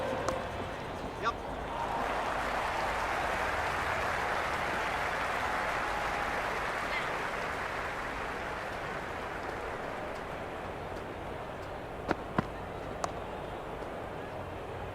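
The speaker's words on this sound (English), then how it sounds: "Will you listen to that crowd? They are loving this." Broad, steady roar of a packed cricket stadium crowd at a T20 World Cup match between India and West Indies, a sustained wash of cheering with a few sharp claps near the end, and commentators talking faintly over it.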